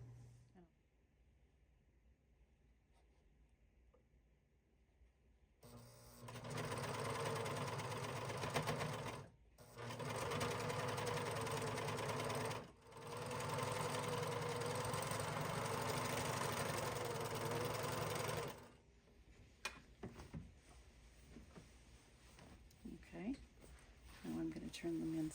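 A sewing machine runs in steady, loud bursts as it stitches a half-inch seam along inside-out skinny jeans, pausing briefly twice before stopping; quiet handling sounds and light talk follow.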